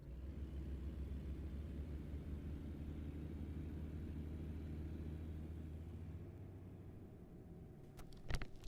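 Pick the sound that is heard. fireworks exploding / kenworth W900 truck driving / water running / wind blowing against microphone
kenworth W900 truck driving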